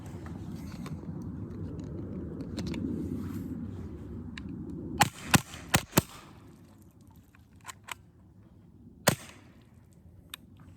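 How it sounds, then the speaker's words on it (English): A Hatsan Sortie .25 calibre semi-automatic air pistol fires a quick cluster of sharp close snaps outdoors, then a few softer clicks and one more loud crack follow after a pause, over a low background rumble. "3 shots, wouldn't cycle the last shot."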